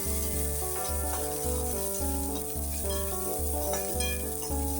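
Chopped onion fries in a pan over low heat, giving a steady, even sizzle that runs the whole time beneath continuous background music.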